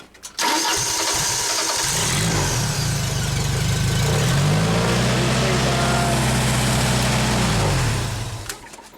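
Engine of a Genie lift cranking briefly then catching and settling into a loud, steady mid-pitched run, close by, before cutting off near the end.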